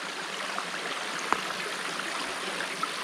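A river flows along a wilderness backpacking trail in Nevada's Arc Dome Wilderness on the Toiyabe Crest, making a steady broadband rush of water close by with faint trickling detail and no voices.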